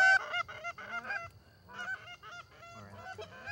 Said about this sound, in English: more geese would come